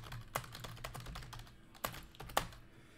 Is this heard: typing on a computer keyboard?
yes